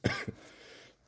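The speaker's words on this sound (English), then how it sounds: "The cough still hasn't gone away" A person gives a single short cough, a sharp burst followed by a quick second catch of the throat, close and indoors, with no talk.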